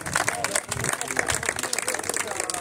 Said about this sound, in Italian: un grande applauso a tutti i balestrieri